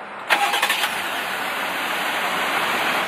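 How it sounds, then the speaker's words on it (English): A 2020 Jeep Gladiator Rubicon starts remotely: a short burst of starter cranking catches into a firm engine note, then settles into a steady, even idle close by with no talk. "we can double tap the engine start stop button and we can go ahead and start it up remotely"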